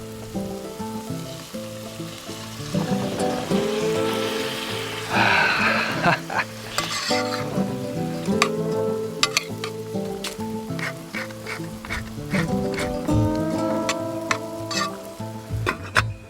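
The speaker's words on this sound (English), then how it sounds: "I'll add my chopped tomatoes and let them cook down slowly with the lid on the pan" Chopped tomatoes cook down in a lidded pan, giving a steady close sizzle and frying hiss with occasional stirring clinks, continuous throughout.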